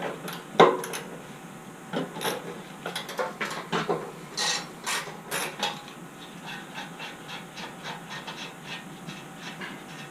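Bolts are fastened onto the gas tank of a Baja Warrior 196cc mini bike, with light repeated metallic clicks and ratcheting taps arriving irregularly and close by, fairly quiet, with no talk.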